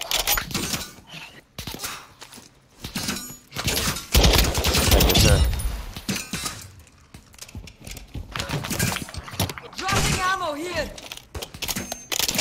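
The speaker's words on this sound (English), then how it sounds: "Oh, they're shooting at the hospital." Gunfire erupting around a hospital in a multiplayer shooter, scattered shots and bursts of automatic fire at varying distances, mixed with keyboard clatter and frequent talk over the top.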